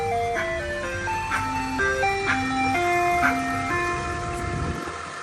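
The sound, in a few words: ice cream truck jingle from outdoor speaker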